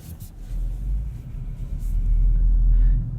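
Low, deep rumble from a 2016 Audi S7 with its dynamic engine sound setting, steady and close, swelling slightly in the second half as if under light throttle while driving.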